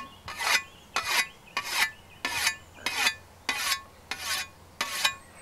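A whetstone hones an Austrian scythe blade in eight even rasping strokes about once every 0.6 seconds, each a bright, close scrape rising in intensity and then stopping, with no talk.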